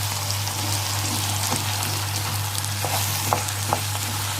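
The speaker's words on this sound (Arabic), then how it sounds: "نبدا نقلبها واحده واحده كده عشان يبقى الرز حبايه وحبايه كويسه" Rice frying and being stirred in a pot, a steady close sizzle with scattered scraping clicks from the stirring, no talk.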